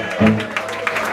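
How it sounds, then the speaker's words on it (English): A live audience at a music jamboree breaks into a brief round of applause for a performer, with the clapping mixed under voices and ringing sound from the stage. "Come on, give it a big hand of applause for Eddie the Chief Newater."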